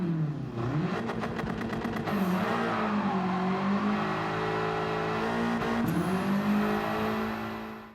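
An upgraded car engine in Gran Turismo 7 revs hard toward 8,300 RPM, a droning tone climbing and dipping with gear changes, loud and continuous without any voices.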